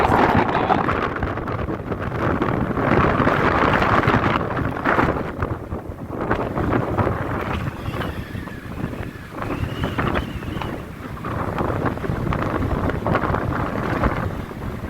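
Strong wind sweeps across the steppe on the shore of the Khadzhibey estuary, roaring and buffeting the microphone in a loud, continuous rush for the whole stretch, with no voices.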